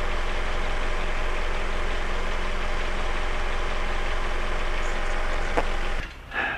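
A car engine idles steadily with a massive vacuum leak, giving a constant close rumble that cuts out abruptly near the end.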